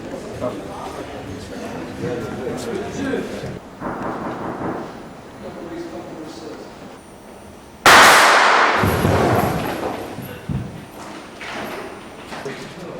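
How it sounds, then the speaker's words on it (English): A film-set explosion is staged to blow up the King David Hotel during shooting of 'The Promise'. A sudden, loud blast breaks in after a stretch of background voices and noise, then rumbles and slowly fades. "Today we're going to blow up the King David Hotel"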